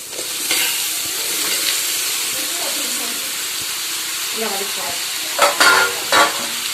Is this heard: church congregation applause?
no